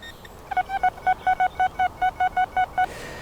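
About a dozen short, evenly spaced electronic beeps from a metal detector in a field, in a quick steady rhythm, clear over a faint background hiss.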